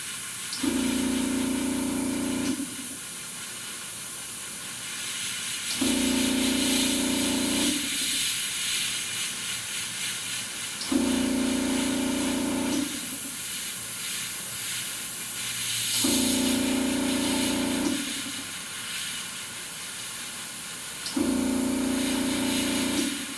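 Several long bursts of hissing spray paint from a nozzle, dark green, each a few seconds, alternating with a lower droning tone between bursts; steady and close, no talking.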